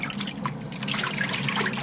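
Vintage linen splashes and sloshes into warm water, producing a continuous close churning of liquid with dripping and trickling throughout.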